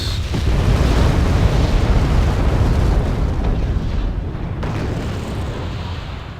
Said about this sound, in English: Aardvark's dropping bombs over there,